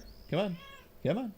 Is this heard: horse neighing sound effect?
no